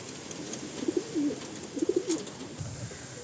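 A pansy pigeon coos softly in a loft, giving two short rolling phrases of low throaty coos, faint and close, with a quiet background.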